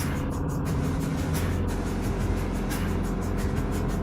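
Motorcycle riding through Provo Canyon in Utah, a steady, close engine drone with rushing wind, continuous and even throughout, with no voices.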